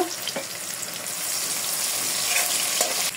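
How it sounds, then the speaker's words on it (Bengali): Chopped onions with garam masala and bay leaf fry in hot oil, giving a steady, close sizzle with a dense crackle and no voices. "কিছু পেঁয়াজ কুচি দিয়ে দেবো, গরম মশলা, তেজপাতা।"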